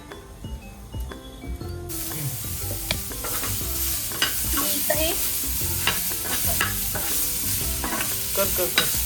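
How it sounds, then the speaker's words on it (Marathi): Onion, tomato and green chilli sizzle and crackle in a hot pan while being stirred, with scraping and clinking throughout; a few quiet spoken words briefly at the start. "मी मसाल्यासाठी इथं हे कांदा, टमॅटो, मिरची भाजून घेतलेली आहे"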